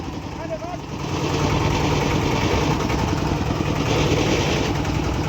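A steady, rumbling engine idles close by, its low chugging continuous throughout, growing slightly louder after the first second, with a faint voice briefly at the start.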